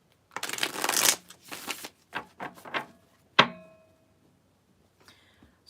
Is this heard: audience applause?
no